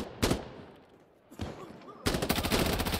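Gunfire in the tactical shooter Insurgency Sandstorm: a couple of sharp close shots, then a rapid automatic burst that runs to the end, loud and dense.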